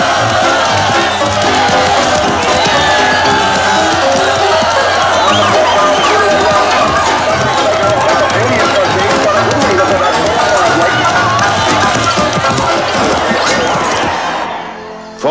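A crowd cheers and roars steadily at the start of a camel race, a dense, loud wash of voices and running commotion that holds for about fifteen seconds before cutting off.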